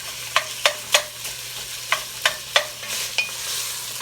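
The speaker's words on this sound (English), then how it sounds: "We're going to stir our pasta around here so it don't stick" Penne pasta stirred in a pot with a spoon, about nine sharp scraping clicks at an uneven pace over a soft steady hiss, close up and with no voices.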